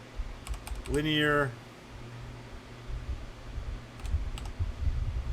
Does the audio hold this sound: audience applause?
no